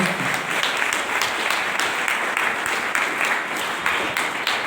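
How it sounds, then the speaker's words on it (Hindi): Audience applause for the person who invited them into the business, dense steady clapping from a crowd that carries evenly throughout without a voice over it. "तो क्या उस शख्स के लिए ताली बजाई जा सकती है"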